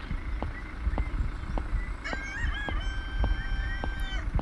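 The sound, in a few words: chicken clucking in audio game EchoVis Street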